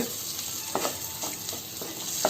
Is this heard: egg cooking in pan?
yes